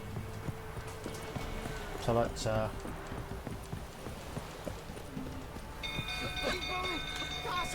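Horse hooves clop at a steady walk in The Witcher III: Wild Hunt beneath someone talking, with game ambience and a brief tonal chime toward the end.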